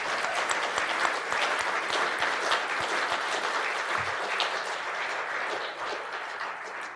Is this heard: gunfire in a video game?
no